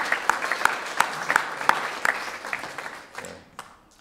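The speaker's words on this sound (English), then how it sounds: "a round of applause" Church congregation applauding during a Sunday service: sharp individual claps ring out over a thinner patter of clapping that gradually tapers off and fades to a few scattered claps at the end.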